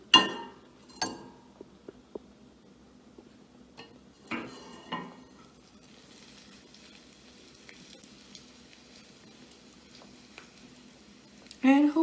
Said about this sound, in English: I'll just saute it for a couple of minutes